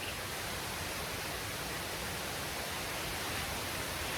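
Waterfall in Samana, Dominican Republic, a steady broadband rush of falling water, heard nearby and unchanging throughout with no voices.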